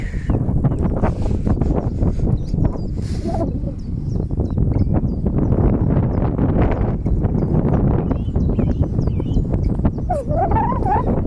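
Strong headwind buffets a cyclist riding a Koga World Traveller touring bike on an overcast road, a loud continuous roar of wind noise filling the clip with no talk.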